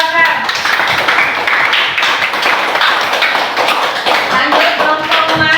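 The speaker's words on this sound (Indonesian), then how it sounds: "Tepuk tangan untuk kelompok Abu Bakar" A classroom group of students claps together, with brisk, continuous hand clapping close by and voices talking and calling out over it.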